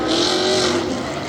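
Off-road truck engine racing hard around a dirt track during Tough Trucks Challenge qualifying, a steady loud roar sustained throughout with a faint whine, no talk over it.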